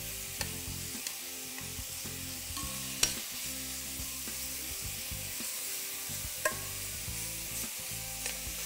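Mushrooms cook in hot olive oil in a pan with a steady, soft sizzle, broken by occasional clicks and clacks of a utensil stirring and scraping the pan; no voices.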